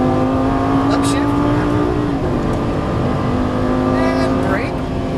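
Lamborghini Gallardo engine on a race track lap, loud and close throughout with a steady drone, rising pitch sweeps as it accelerates and shifts up, an instructor's voice speaking over it.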